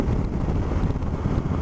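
Steady, loud wind buffeting roars behind the windscreen of a Triumph Explorer 1200 motorcycle while riding, a dense continuous rumble with no pauses.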